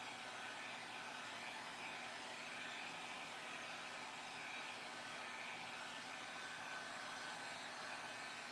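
A hair dryer blows steadily at close range to dry a coat of finish on a candle and clay craft piece, a constant loud whooshing roar with no pauses.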